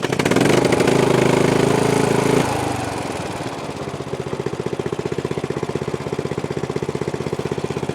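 A small engine on a Ford F250 sander truck fires up with a steady throttle roar, then settles into a fast, even, rhythmic idle that chugs on up close after the choke is set.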